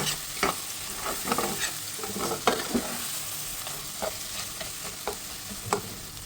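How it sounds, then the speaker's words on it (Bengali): Rice-fry ingredients with Maggi sauce sizzling in a pan, a steady soft frying hiss broken by repeated scrapes and clacks of stirring, close and fairly quiet. "আমি এই ভাত ভাজাটাতে ম্যাগি সসটা দিয়ে থাকি, একটু ম্যাগি সসটা দিলে ভালো লাগে খেতে। এখন আবার একটু ভেজে নিচ্ছি।"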